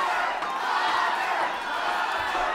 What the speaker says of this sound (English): The crowd now chanting Awful Robert behind right now